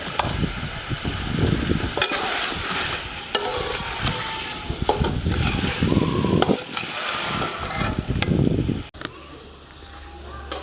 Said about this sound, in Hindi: जब तक गोश्त हमारा दूसरे चूल्हे पे भूनता है